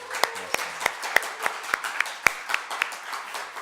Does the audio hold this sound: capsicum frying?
no